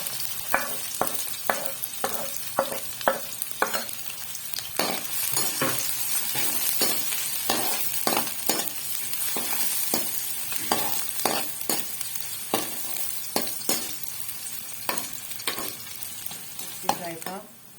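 Spices frying in hot ghee in a kadhai, with a steady sizzle broken by frequent sharp scrapes and clinks of a spoon stirring against the metal, close and alone.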